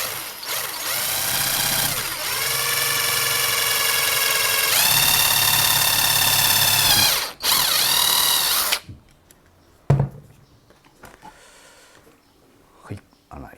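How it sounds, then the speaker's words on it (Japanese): A power drill whines loudly in several sustained bursts, drilling a hole sized to fit a skewer, its pitch rising as it spins up, then cuts out, leaving quiet handling clatter. "そして程よいサイズのドリルで穴を開けます。"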